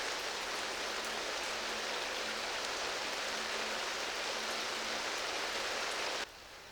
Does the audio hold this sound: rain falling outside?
yes